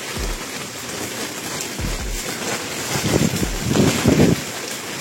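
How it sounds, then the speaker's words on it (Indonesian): Rain pours down at sea while strong wind roars and buffets the microphone, with low rumbling gusts swelling toward the end. No one speaks. "Tiba-tiba saja hujan dan angin kencang."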